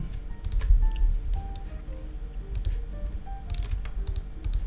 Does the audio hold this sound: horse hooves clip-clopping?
no